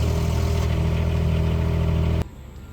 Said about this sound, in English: After the glow plug finishes its cycle, you will start the diesel engine.